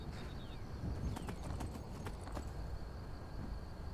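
Horse hooves clop in a rapid, steady rhythm in the video game Vagrant, fairly faint over a constant background hum.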